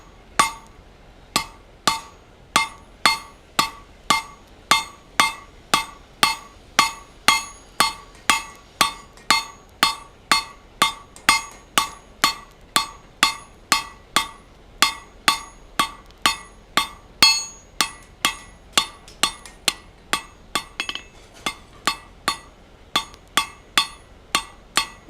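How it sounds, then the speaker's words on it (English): Steady, evenly spaced hammer blows ring out from a blacksmith drawing steel to a sharp taper on the anvil horn, roughly two strikes per second, loud and close, with metallic clinks and no talk. "So you can see as I hammered, drawing back, always keeping the tip right there at the center line so that my hammer can come down and hit that steel"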